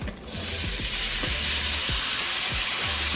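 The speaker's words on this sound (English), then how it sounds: "Now that my butter is melted, I'm going to add in the shrimp." Shrimp drop into melted butter in a pan and set off a loud, steady sizzle, with repeated low thumps and scrapes of stirring and tossing throughout.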